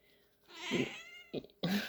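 A neutered, overweight house cat meows in two or three drawn-out, close, fairly loud calls separated by short pauses.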